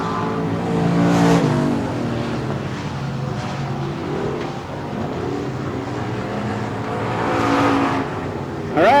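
Dirt track race cars run down the back stretch, a loud continuous engine drone that swells and eases as the cars pass, with engine pitch rising near the end.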